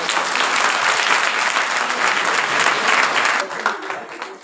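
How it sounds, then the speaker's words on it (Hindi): Loud, sustained applause from an audience at a National Girl Child Day 2024 award ceremony where girls receive certificates and mementos, a dense wash of clapping that thins out near the end. "जोरदार ताली।"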